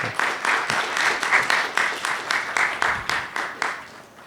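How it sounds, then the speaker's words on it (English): A crowd at a roundtable discussion applauds steadily, the claps blending into a dense wash that pulses slightly and fades toward the end. "Let's give Father Albert a round of applause."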